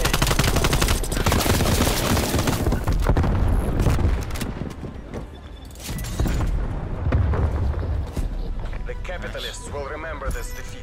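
Gunfire in Call of Duty: Black Ops Cold War, loud and dense, with rapid shots and bursts running through most of the stretch under game noise and voices.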